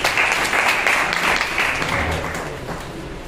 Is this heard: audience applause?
yes